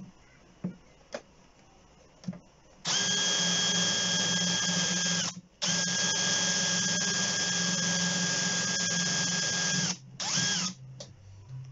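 A Milwaukee M12 FDDX 4-in-1 installation drill/driver runs in two long, loud, steady whirring bursts and one short spin, after a few light clicks and taps nearby.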